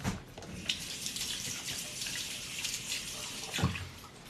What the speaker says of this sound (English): what I'm going to do is wash my poop hands